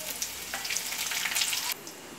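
Dried red chilies dropped into hot oil with golden-browned garlic: a bright, crackling sizzle flares up close and loud, then cuts off abruptly near the end, leaving a quieter background hiss; no one speaks.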